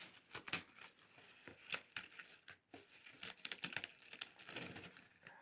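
Crackling, crinkling plastic with irregular snaps as a baked cake layer breaks apart inside a plastic bag, close and fairly quiet, in uneven bursts.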